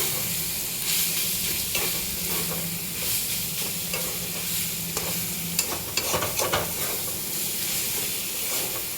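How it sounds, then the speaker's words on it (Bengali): Banana flower frying in a pan of cooked-down spice masala, a steady close sizzle and hiss with scraping stir strokes and light clinks toward the end, no voices. "এই যে এবার মোচাটা দিয়ে দেবো, দিয়ে একটু ভালো করে ভেজে নেবো।"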